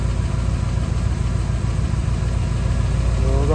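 A V8-swapped Chevrolet S10 idling with the air conditioning switched on, a steady low rumble with even engine pulses and no change in pitch, close and fairly loud, with no talk.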